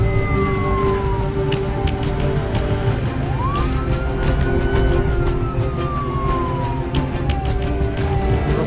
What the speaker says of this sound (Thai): รถพยาบาลมาถึงแล้ว